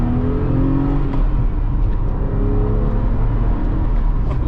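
A 2008 Porsche 911 997 C4 convertible with a 4.0L engine and 6-speed manual accelerates, its deep rumbling exhaust rising steadily in pitch as the revs climb, loud and close from start to finish.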